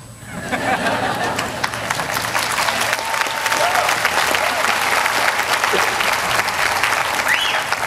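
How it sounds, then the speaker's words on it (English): A commencement audience at Pitzer College breaks into loud, sustained applause during the keynote, thick clapping mixed with crowd chatter and an occasional cheer, building quickly and holding strong for several seconds. "you can clap too"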